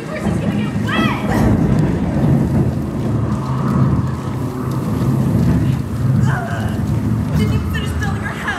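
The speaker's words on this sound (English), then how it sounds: "The rain fell and the winds blew and howled all night long." A storm of rain and thunder, with steady heavy rainfall hissing on surfaces and low rumbling thunder rolling through, while some voices and crowd babble sit underneath the weather.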